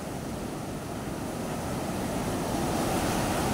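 Steady roar of ocean surf, broadband and continuous, with waves washing in close by and a slight swell in loudness toward the end.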